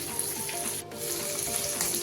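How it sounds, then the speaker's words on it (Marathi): Bangda (mackerel) fish frying in a pan, a steady close hiss of hot oil with small crackles running continuously, dipping briefly for a moment near the middle before resuming. "अशा प्रकारे पूर्ण फिश फ्राय करून घेऊया."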